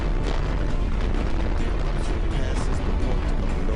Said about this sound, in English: La Palma volcano erupts.